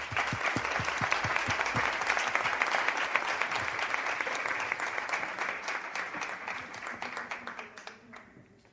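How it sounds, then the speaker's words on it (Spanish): A hall audience at an open-day event gives loud sustained applause, starting with a few distinct claps that swell into a thick roar of many hands, then thin into scattered claps as it fades. "un fuerte aplauso para ellos"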